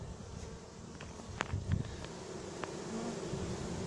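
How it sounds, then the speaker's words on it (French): Honeybees buzz around a hive covered by an anti-hornet tent, a faint, continuous insect hum with a few brief closer passes rising above the low wind. "les abeilles sont un peu perturbées et elles battent le rappel en bas"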